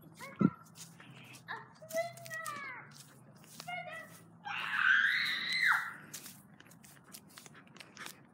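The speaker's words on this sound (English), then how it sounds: "Did you have to scream like that?" A child screams in a shrill, sustained burst near the middle, preceded by short squeals and excited vocal sounds and a sharp thump, loud and close, followed by quieter moments.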